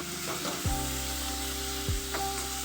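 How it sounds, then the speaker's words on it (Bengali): Boiled pumpkin pieces fry in a little oil with a soft, steady sizzle, broken by two scraping stirs of a spatula against the pan. "একটু ভাজা ভাজা করে এটাকে নামিয়ে নেবো"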